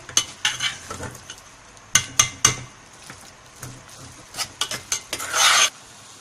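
Chicken filling is stirred and cooked in a pan, with a spoon scraping and clinking in bursts of loud, rasping strokes through a soft background sizzle, and a longer scrape near the end.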